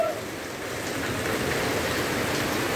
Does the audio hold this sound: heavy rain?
yes